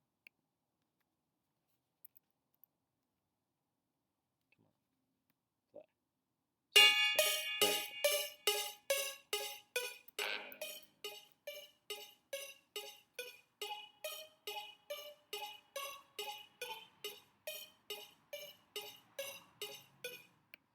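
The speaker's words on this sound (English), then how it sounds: "So we have a trap synth loop" After a few quiet ticks, a bright plucky trap synth loop starts, with short staccato notes pulsing in a steady rhythm that slowly fades.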